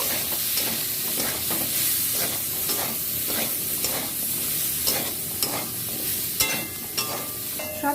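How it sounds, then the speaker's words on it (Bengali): Spices frying in a pan for a vegetarian Malabar spinach dish, with a steady sizzle and repeated scraping stir strokes close by, some louder clacks near the end; no talking. "মশলাগুলো অ্যাড করে দিচ্ছি এই যে এবার নেড়ে ছেড়ে ভালো করে ভেজে নেব"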